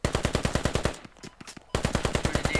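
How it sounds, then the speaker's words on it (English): Tracer rifle fire in the military shooter game Squad: rapid automatic bursts of evenly spaced loud shots, a brief gap with quieter scattered shots, then another sustained burst, with no talking. "Hamlet opening fire with his tracer."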